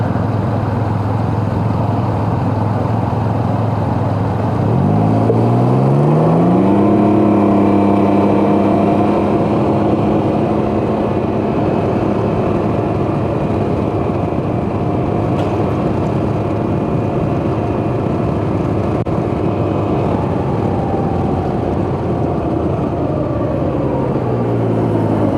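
A 2019 Can-Am Ryker three-wheeler hums on a town ride under loud, steady wind noise. The engine climbs in pitch through acceleration near the start and eases down toward the end, with no talking.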